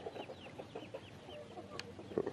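Chickens cluck softly near a pond, a scattering of short, faint calls over a quiet outdoor background, with a sharper chirp standing out near the end.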